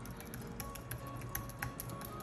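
Rapid, steady typing on an Apple Magic Keyboard, crisp low-travel key clicks pattering close by and alone for a couple of seconds.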